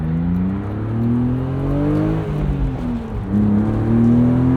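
A 1999 BMW M Roadster engine accelerates hard through the gears, loud and close, with rising revs that drop at each shift before climbing again, and no talk over it.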